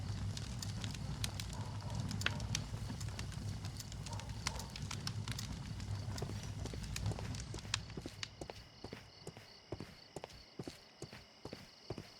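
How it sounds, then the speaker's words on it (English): A dying fireplace fire in the Sherlock Holmes: Crimes & Punishments game crackles softly with sharp scattered pops and clicks over a low rumble that drops away after about eight seconds, leaving sparse snaps. "This fire is dying out."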